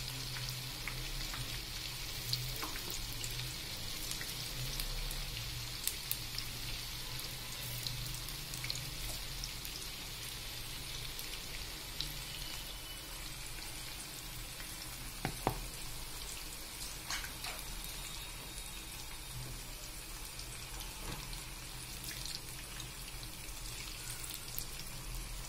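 Baby corn fries in oil over a medium flame, giving a faint, steady sizzle full of small pops and crackles that runs on without talk.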